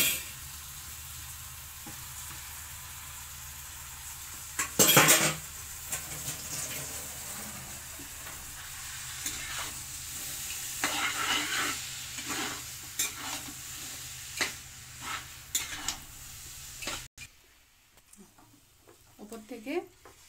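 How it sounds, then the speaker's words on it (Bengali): Mashed eggplant stirred into a pan of frying peas, tomato and egg, with scraping stirs and a low sizzle, a sharp clatter near the start, and voices talking over the cooking throughout. "এই যে বেগুন ভর্তা করে রেখেছি সেটা"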